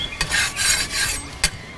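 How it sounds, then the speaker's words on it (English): Bacon grease being spread across a soapstone cooking surface, a few short scraping rubs close by, with brief sharp strokes between softer smears, no talk. "take some of that bacon grease, lay it down here on my soapstone, kind of spread that out a little bit"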